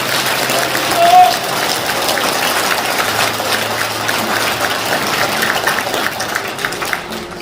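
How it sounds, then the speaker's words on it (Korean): Audience applause at a 2023 extraordinary general assembly of a Korean clan association, a steady wash of many hands clapping for several seconds in a reverberant hall with faint voices underneath. "감사의 큰 박수 부탁드립니다"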